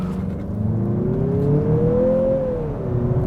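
2023 Mazda CX-50 with all-wheel drive accelerating hard from inside the cabin: a steady engine roar with a whining note that rises, then dips as the gear changes, loud and continuous with no talk.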